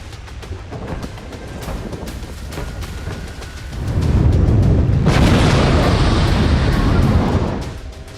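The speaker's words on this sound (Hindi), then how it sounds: "इजरायली लड़ाकू विमान हमास के ठिकानों पर JBU फैमिली के बम बरसा रहे हैं" Bunker-buster bombs dropped by Israeli fighter jets on Hamas positions explode as a deep, sustained rumbling roar. It swells up from a noisy background, holds for several seconds, then fades.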